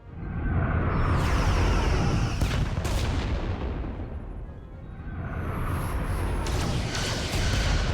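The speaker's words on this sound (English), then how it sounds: "Fire phasers! Firing." A starship fires phasers during a space battle in Star Trek: Resurgence, a loud, continuous roaring energy barrage with crackling bursts that swells, dips briefly in the middle, then surges again.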